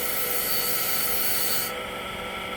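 A mild green abrasive pad rubs back and forth on a silver-plated spoon, giving a close, steady scratchy scrubbing sound.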